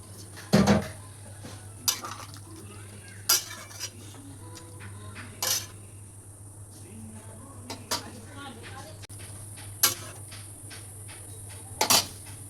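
Metal pot and lid clatter during home cooking of a prawn, potato and pointed gourd curry, several sharp clinks and knocks spaced apart over a quiet kitchen hum.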